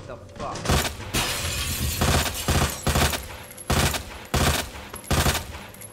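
Rapid bursts of gunfire in the survival horror game Resident Evil 2, loud shots arriving in repeated clusters roughly every second, with someone talking over parts of it.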